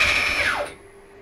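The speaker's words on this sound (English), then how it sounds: "The rattling is because this is all a bit loose and ready because I haven't bolted everything down tight" A Nema 34 stepper motor rig, loosely assembled, gives a loud, high mechanical whine at full speed that sweeps down in pitch as it winds to a stop within about a second, leaving a faint hum.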